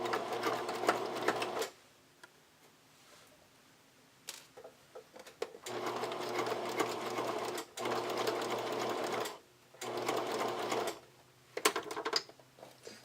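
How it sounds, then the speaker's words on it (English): A sewing machine runs a tight zigzag stitch along the edge of lace being attached to a thong gusset, running in several steady bursts of a few seconds each with short pauses between, close and clear. "using a tight zigzag stitch, I'm just going to go along this edge to anchor it together"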